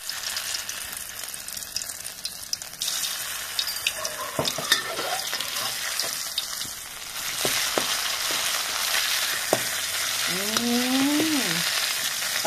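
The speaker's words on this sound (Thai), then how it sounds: "ใส่น้ำมันลงไปแล้วก็เอาพริกแกงเผ็ดนะคะ" Oil sizzling and crackling steadily in a pan while southern Thai red curry paste is stirred, with a few scraping knocks and a short squeak near the end.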